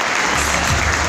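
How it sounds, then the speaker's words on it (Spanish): An audience at a tribute ceremony for longtime political militants in Caucete, Argentina, breaks into a dense, loud wash of clapping that fills the whole brief moment. "Yo pido un fuerte aplauso"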